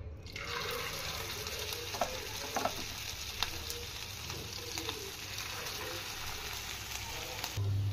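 Sesame and poppy seed fritters frying in hot oil in a pan, a steady close bubbling sizzle with a few light clicks, continuous and even for the whole stretch.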